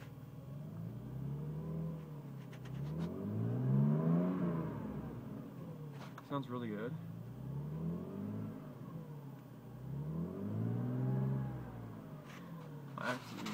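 A Mercedes W124 300E engine revs repeatedly in rising and falling swells, loud and close, with a brief spoken comment partway through.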